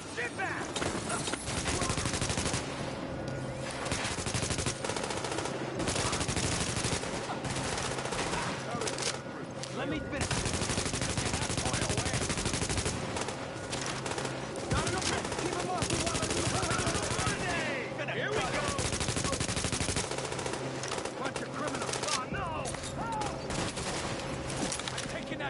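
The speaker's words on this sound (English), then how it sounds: "small arms fire" Sustained small arms gunfire from The Division, set in Harlem, with dense overlapping bursts and rapid automatic fire running throughout at steady high loudness, mixed with game sounds and occasional talk.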